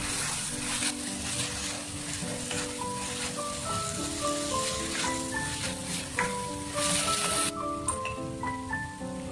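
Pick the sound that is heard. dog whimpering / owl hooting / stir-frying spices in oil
stir-frying spices in oil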